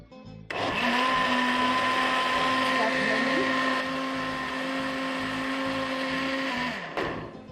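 A blender blending hot roasted tomato soup whirs loudly and steadily for several seconds, its motor droning with a slight pitch wobble before winding down at the end.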